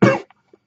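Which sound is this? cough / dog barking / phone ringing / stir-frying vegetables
cough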